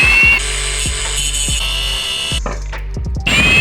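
A power tool grinds down the lips of viscous exhaust mounts on a Honda Civic Type R during an AWD exhaust build, a loud whirring drone with rhythmic knocks that briefly cuts out before spinning up again.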